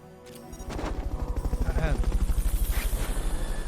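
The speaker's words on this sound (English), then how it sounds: "Fulton recovery subject confirmed onboard helicopter" Helicopter in Metal Gear Solid: Peace Walker, rotor rising quickly into a loud, fast rhythmic chopping thump that carries on steadily to the end.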